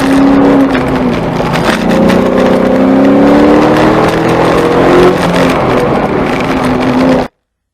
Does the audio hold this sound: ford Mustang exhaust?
yes